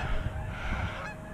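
Geese honk in the distance, a brief burst of calls over a rough, breezy outdoor background during a Chicago blizzard dig-out.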